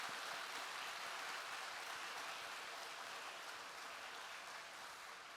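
An audience at a church prayer house applauds its choir, a steady dense wash of clapping that is faint and distant and continues without a break.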